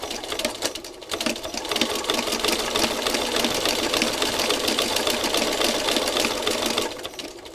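A sewing machine stitches fabric at a steady fast whir. Its rapid mechanical needle chatter runs loud and close with a brief slowdown near the start, and no voices are heard.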